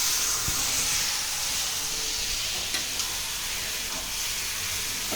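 Mutton sizzles steadily as it is stirred in a pan, a dense, even hiss of frying meat that holds close and fairly loud throughout, with no talking.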